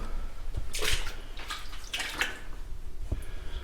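Water in a flooded building basement, a soft steady splashing and trickling with a few brief drips and sloshes, faint and close, with no one talking.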